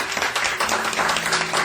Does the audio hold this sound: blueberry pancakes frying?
no